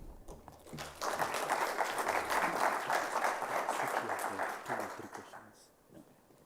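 An audience at a cyber conference session applauds the speaker after a presentation. The clapping swells in after a quiet start, holds steady, then fades out with some faint talk around it.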